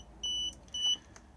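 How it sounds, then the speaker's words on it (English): An Elddis Majestic 285 motorhome heater control panel gives two short electronic beeps, each about a quarter second long with a brief gap between, followed by a faint click, against a quiet interior. "if I press this at the moment, it's going to beep at us"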